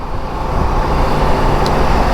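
A motorcycle riding along a road among car traffic gives a loud, steady rush of engine and wind noise throughout, with no talking.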